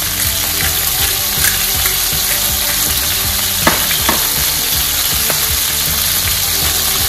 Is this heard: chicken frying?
yes